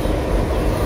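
Alstom locomotive number 4218 rolling past on Thailand's Eastern Line, a brief loud rush of rumbling wheels and engine noise, close and continuous.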